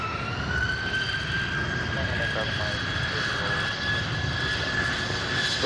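Aircraft engine roar at Boeing Field during a Blue Angels pop-up practice, a steady loud drone with a rising whine held throughout, faint voices underneath.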